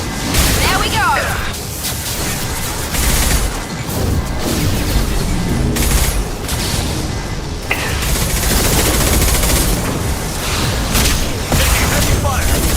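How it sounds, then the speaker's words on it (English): Heavy combat gunfire in Mass Effect 2, a dense continuous barrage of shots, crashes and booms that stays loud throughout, with voices speaking over the din. "Heavy fire!"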